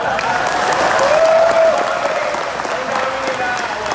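Church congregation applauding during a Freedom Sunday service at a Baptist church, with sustained clapping from a crowd and a voice or tone rising above it, moderately loud and steady before easing slightly.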